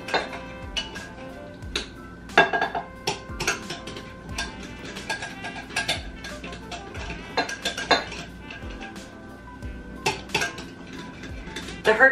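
Keto English muffin dough made with Carbalose flour and flaxseed meal being mixed in a bowl, heard as rapid repeated clinks and taps of a utensil against the bowl, close and steady.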